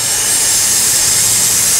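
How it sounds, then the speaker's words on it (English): Steady, loud hiss of air rushing out of a tire through its air release valve under pressure, continuous and unbroken throughout, close by. "letting the air out of the tire."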